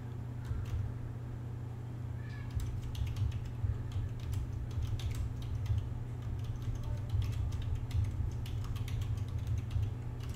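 Rapid, irregular clicks of typing on a computer keyboard run throughout, faint and scattered above a loud steady low electrical hum.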